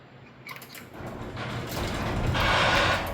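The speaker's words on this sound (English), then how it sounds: "when I raise the door, so even if the door is up that much" A garage door is raised by its opener, giving a mechanical creaking and grinding that builds steadily and grows louder toward the end, with no talking.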